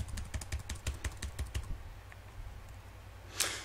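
Rapid keyboard or mouse clicking while sharpening an axe in DLC Quest, a quick run of crisp taps that thins out and stops, followed by a brief soft swish near the end.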